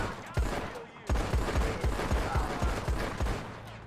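Rapid bursts of gunfire in a video game shootout, about a dozen sharp shots in a quick, steady rhythm, loud and close, with faint talk mixed underneath.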